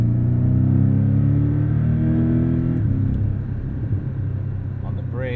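A Porsche Cayman driven hard on a tight technical course at the Los Angeles Porsche Experience Center, its engine droning loud and close. The pitch holds high, then drops as revs fall partway through.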